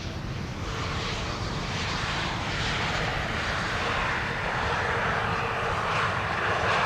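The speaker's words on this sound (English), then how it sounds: "the sounds of the engines are blowing towards me" Steady, loud roar of an arriving Airbus A320neo's jet engines at Amsterdam Schiphol Airport, rushing continuously from start to end, broadband and unbroken, with no voices.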